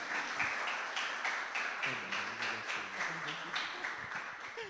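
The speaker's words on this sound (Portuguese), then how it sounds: "Vamos aplaudir Jesus bem forte?" Church congregation applauding Jesus during a family-themed talk, a steady dense wash of clapping from many hands filling the room, with a voice briefly speaking or calling out partway through.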